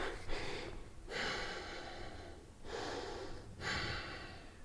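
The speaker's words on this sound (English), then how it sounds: "Exhale down." Slow, audible breaths exhaled through the nose and mouth during a deep yoga stretch, three long airy pushes of breath in a steady rhythm, close and moderately loud with no talking.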